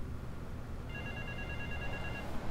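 A phone rings in Grand Theft Auto III, a steady electronic trill lasting over a second above constant low game ambience.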